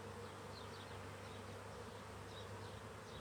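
Honey bees buzz in a dense, continuous hum during a beehive inspection, close and steady, with the odd brief higher whine of a single bee passing near.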